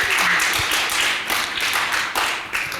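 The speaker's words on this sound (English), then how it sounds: "You can clap." An audience at a Connecticut state government civics event clapping together, a full round of hand claps with a few louder swells over nearly three seconds.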